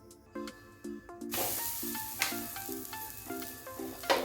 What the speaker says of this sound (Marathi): थालीपीठ आहे ते आता भाजून घेऊया